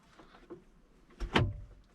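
The rear passenger door of a Mercedes W126 560SEL swings shut with one solid, close thump, preceded by faint clicks from the latch and handle.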